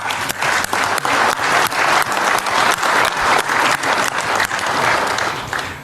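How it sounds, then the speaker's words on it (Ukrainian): Loud, dense applause from a crowd, steady clapping that continues throughout without pause. "отримав порцію оплесків"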